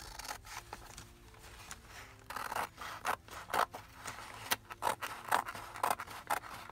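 Scissors snip and slide through paper for a junk journal page, a series of quiet, close cuts with soft rustling between the strokes.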